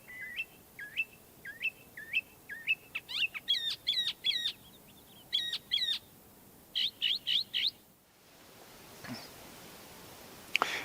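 A mockingbird sings nearby, a loud, close run of repeated whistled and buzzy phrases, each repeated several times in quick rhythm, then a pause with faint background noise.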